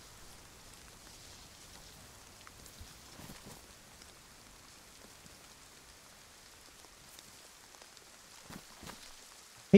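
Rain in the survival game DayZ falls as a soft, steady hiss with scattered faint drips and patters, quiet throughout, and a sharp click at the very end.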